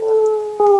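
A human voice imitating a creature howling, a loud sustained tonal wail that holds steady, dips briefly, then swells back up in a second rising howl, close to the microphone.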